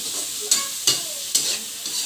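Food sizzles as it sautés in a pan on the stove, with a steady hiss broken by about three sharp scraping stir strokes in quick succession.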